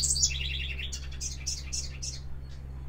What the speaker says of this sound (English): Did you hear that bird back there?